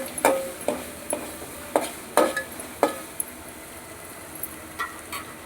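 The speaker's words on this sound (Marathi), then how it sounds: "आता असं तेल सुटंसं असं भाजून घ्यायचं" Food being stirred and roasted in hot oil, with sharp spoon scrapes and knocks against the pan at an uneven rhythm over a soft background sizzle, close by.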